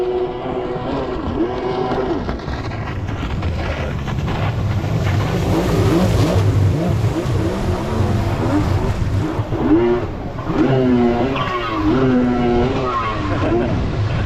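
A Superjet 1100 triple stand-up jet ski engine ripping, a loud, rough, wavering roar rising and falling over water, with shouting voices over it throughout.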